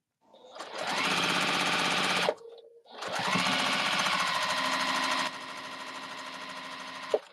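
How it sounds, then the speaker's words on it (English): A Juki sewing machine stitches through fabric at half speed, a loud, steady, rapid mechanical chatter that runs for about two seconds, pauses briefly, then resumes at length and tapers to a slightly softer run. "Get a Juki. You too can sew fast. That's right. That's only at half speed."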